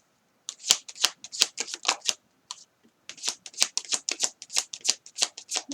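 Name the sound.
shuffling tarot cards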